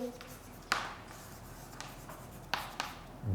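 Chalk or marker strokes on a board during a French vocabulary lesson: a few short, scattered scratches and taps, fairly quiet against a low room hum, with no talk.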